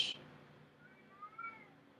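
A house cat meows in a few faint, drawn-out calls indoors, with a brief burst of noise at the start and quiet room tone behind it.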